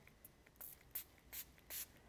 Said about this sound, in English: you can just spray it and you can paint it on